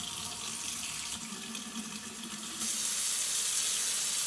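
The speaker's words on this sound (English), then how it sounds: "And for a full demonstration on the faucet, turn the water on." Water runs steadily from a Moen Riley pull-down kitchen faucet into a sink, a close, even hiss that grows brighter and stronger partway through as the flow is turned up.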